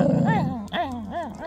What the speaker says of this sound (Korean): 엄마가 세게 물진 않아요. 으르렁거려 그냥.